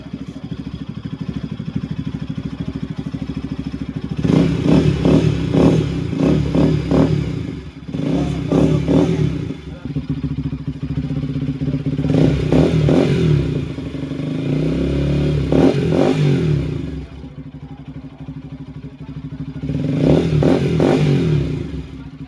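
A Kawasaki NS200 fuel-injected motorcycle engine idles and then revs in repeated bursts near the mic as it shifts into second gear, with clattering mechanical noise between the revs.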